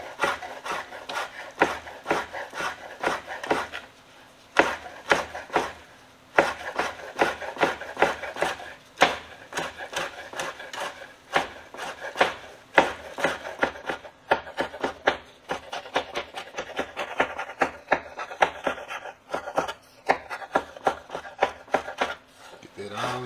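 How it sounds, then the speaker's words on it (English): A knife chops cooked beef on a cutting board for stuffed potatoes, rapid irregular bursts of close, scraping knocks with brief pauses between runs. "chop up my beef."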